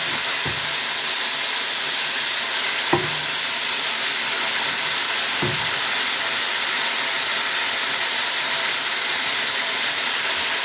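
Pork shoulder searing in a hot pan gives a loud, steady, close sizzle and hiss, broken by three sharp clinks of a utensil against the pan.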